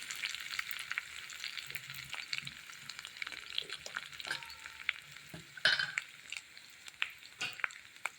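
Dried red chillies and curry leaves sizzle and crackle steadily in hot oil for rasam, a close, continuous frying hiss with occasional sharper pops and the light scrape of stirring.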